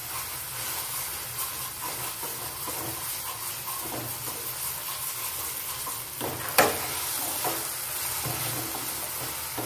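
Tomato and matoke (raw green banana) gravy cooking over heat in a pan, a steady soft sizzle and hiss with faint stirring scrapes and one brief clatter, no talk.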